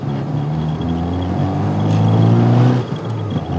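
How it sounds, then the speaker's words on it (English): A Toyota MR2 driving on the road after passing its smog inspection, a loud, steady engine hum with a rising, revving swell near the end before easing off, heard from inside the car. "my MR2 just passed its smog inspection today, so I'm just taking it for a drive"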